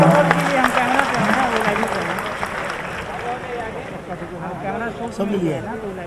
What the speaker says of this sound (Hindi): तालियां बजूं तो हो जाए